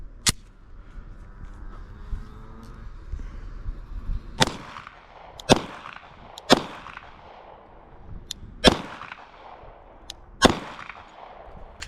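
A Glock 19 Gen 5 pistol fires a string of sharp, loud shots at irregular intervals, each crack ringing out briefly over a quiet outdoor backdrop.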